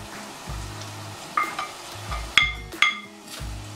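Tomato, pepper and garlic frying in a pot give a low, steady sizzle, broken by several sharp metallic clinks of a spoon against the pot.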